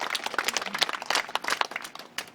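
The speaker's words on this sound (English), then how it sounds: "So Mason deserves a round of applause." Short burst of applause from a small group of people at a kids' sports team gathering, quick uneven claps close by, with no talking in it.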